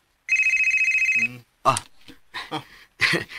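A telephone rings for an incoming call with a single loud, rapid electronic trill lasting about a second, followed by someone speaking close by.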